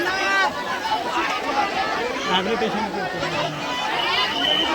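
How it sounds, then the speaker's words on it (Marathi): A dense crowd of pilgrims packs a railway station during the Pandharpur wari, a steady close babble of many overlapping voices with shuffling movement throughout. "त्यामुळं गर्दी बघा किती जास्त आहे, कारण यात्रा असल्यामुळं तेवढं गर्दी भरपूर आहे"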